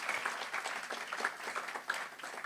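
An audience at a technology conference gives a round of applause, moderate clapping from a room of people, steady and fairly close.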